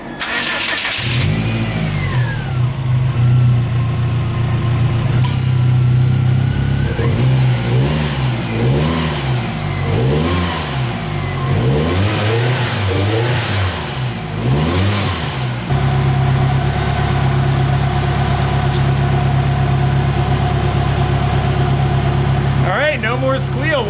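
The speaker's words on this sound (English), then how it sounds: "Start her up, see if we still got the squeals." A worn 1990s Subaru, just fitted with a new AC belt to cure a squeal, cranks and fires up, revs a few times with swooping pitch, then settles into a steady close idle; voices talk over the engine.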